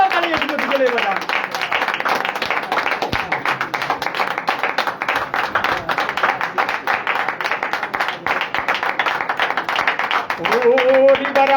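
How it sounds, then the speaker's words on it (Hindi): Loud, sustained applause from a church congregation praising Jesus during worship, dense hand clapping running steadily for the whole stretch with voices faintly mixed in at the start and end. "आइए एक जोरदार ताली यीशु के लिए बजाएं"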